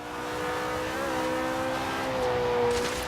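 A McLaren 570S Coupe with a rallycross build races in Forza Horizon 3, its engine holding a steady, loud, rising and falling drone near flat out, with no talking over it.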